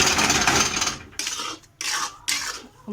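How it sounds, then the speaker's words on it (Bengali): Coconut laddu mixture is rubbed and worked by hand, giving rough scraping strokes in separate bursts with short pauses between them, close and fairly loud, with no talking. "এই নাড়ুটা বানাতে হবে এইভাবে ঘষে ঘষে এরকম"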